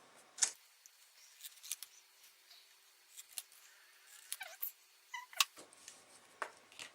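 Scissors snip through paper artwork in soft, sparse cuts, with faint crisp snips and rustles scattered across a quiet room.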